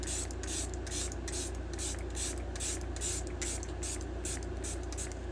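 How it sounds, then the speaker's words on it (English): ColourPop Pretty Fresh setting spray misted in a rapid run of about fifteen short, even pumps, close and steady from start to finish. "I got this new setting spray by ColourPop."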